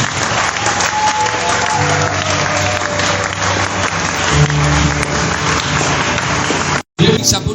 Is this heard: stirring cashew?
no